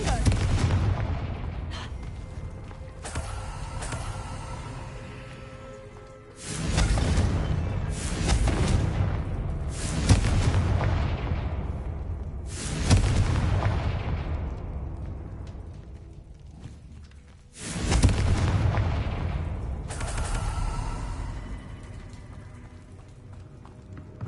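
Repeated Confringo fire spells exploding in Hogwarts Legacy, five heavy booming blasts a few seconds apart, each a loud burst trailing off into a rumbling decay, with faint speech between them.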